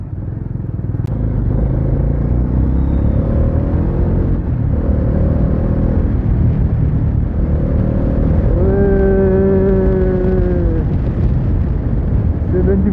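A Bajaj Dominar 400cc motorcycle being ridden, its engine giving a steady, loud rumble throughout with rising revs toward the end, while someone talks over it.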